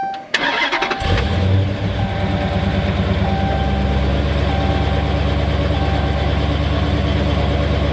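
A 2019 Dodge Challenger R/T Scat Pack fires up after a brief starter whir, its engine catching with a loud bark and then settling into a deep, steady, rumbling idle close by.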